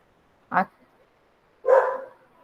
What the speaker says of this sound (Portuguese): Minha cachorra começou a latir